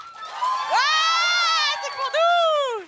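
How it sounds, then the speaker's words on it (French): Audience at a live podcast show erupts in loud cheering, whoops and shouts in two sustained bursts with a brief dip between, the crowd close and filling the room. "Est-ce que vous pouvez me refaire un tonnerre d'applaudissements pour celui que vous préférez entre Cédric"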